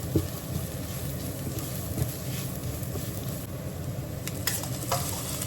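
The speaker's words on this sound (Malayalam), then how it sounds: "പൊടിച്ചത് ഇത്രയും കൂടെ മഞ്ഞളോടെ ഇളക്കുക" Ground spices and turmeric are stirred in a pan for a chicken curry, producing a steady, moderate sizzle with light scraping and a few clicks of the utensil, and no talk.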